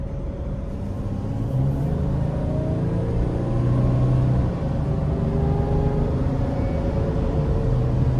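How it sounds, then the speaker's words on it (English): A 2022 Mercedes-Benz 3500XD van with a 3.0-litre turbo inline-six accelerates onto an interstate, its engine note steadily climbing through the gears as a continuous, fairly loud cabin drone with rising tones and no talking. "We're gonna accelerate,"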